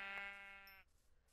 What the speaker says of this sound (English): Good thing we have a bunch of sheep nearby